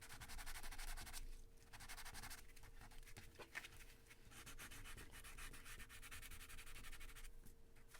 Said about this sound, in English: I have some different sanding sponges here that are much finer, and I am going to try using these on this one to see how this works